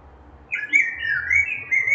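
Birds chirp and squawk outdoors in a quick run of bright, whistled calls, fairly close and clear, with only faint background hum and no talking.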